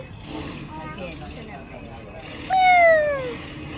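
A single clear cat meow, close and fairly loud, rising then falling, over a quiet background with faint voices earlier.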